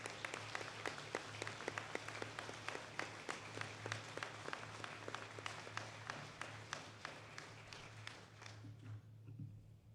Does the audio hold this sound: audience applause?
yes